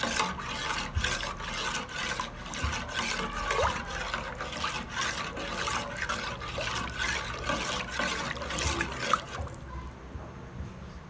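Gravy being stirred as it heats in a pot toward a boil, with a steady wet scraping and swishing that repeats in a regular rhythm, close by, then quieter near the end.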